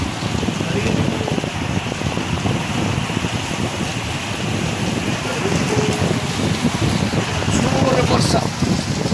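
Heavy rain during a cyclone in Odisha, a dense steady hiss of falling water that continues without a break, loud and close, with faint gusts of wind mixed in.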